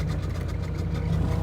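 A Nissan 300ZX Z32 engine runs in neutral, giving a steady, close, low idling rumble with no other sounds.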